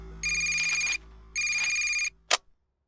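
A telephone rings in two long electronic bursts, followed by a short click as it is picked up, in an otherwise quiet room.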